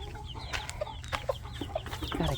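Chickens cluck in short, uneven bursts over a steady low hum, with a few sharper calls scattered through.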